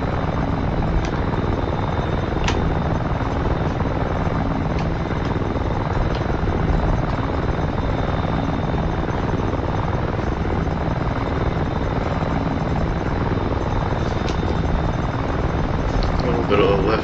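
AH-6J helicopter lifting off in the DCS flight simulator, a loud steady rotor and turbine drone filling the whole clip, with faint cockpit clicks and a voice speaking over it.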